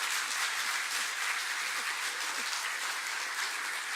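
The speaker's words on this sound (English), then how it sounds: "You may applaud." Conference audience at an energy summit in Suriname applauding, a continuous, even roar of many hands clapping at steady loudness throughout.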